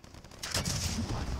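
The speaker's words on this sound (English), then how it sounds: "Aerial bombardment!" Aerial bombardment in a multiplayer shooter game: a quiet stretch gives way to a loud, sustained barrage of booming blasts and rumbling explosions that roll on continuously without letup.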